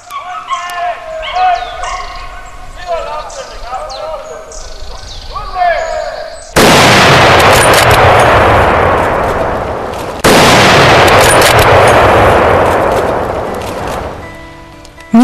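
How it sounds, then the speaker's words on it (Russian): Two loud rifle shots ring out during a driven wild boar hunt. Each blast is near and booming with a long rolling echo. Hunting dogs bark excitedly before the first shot. "Несомненно, загонная охота на кабана предполагает частую стрельбу."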